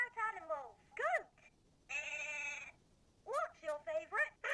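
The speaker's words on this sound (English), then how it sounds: "Goat." An electronic toy sound button plays a goat bleat, a short, wavering, nasal tone heard alone at moderate volume between bursts of the toy's recorded speaking voice.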